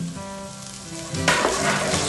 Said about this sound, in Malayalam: അതിലേക്ക് നമുക്ക് കറിവേപ്പ് ഇട്ട് കൊടുക്കാം.